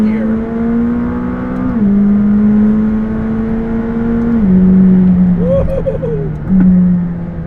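A McLaren 600LT Coupe pulls hard in third gear, its engine note climbing and stepping between steady tones, heard from inside the car at close range.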